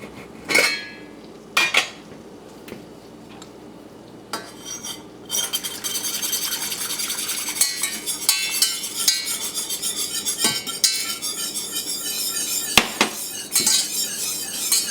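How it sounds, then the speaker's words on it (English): A whisk scrapes and clinks steadily in a pot as a cornstarch and water mixture is poured into boiling water for starching a crochet basket. The stirring starts after a few sparse knocks and stays close and busy. "we're going to stir our whisk as we pour to ensure there are no clumps."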